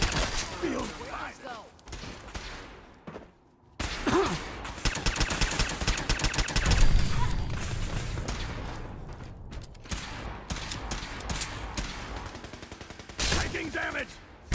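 Rapid bursts of video game gunfire crackle in dense, loud volleys, broken by short pauses and mixed with heavy impacts and game effects.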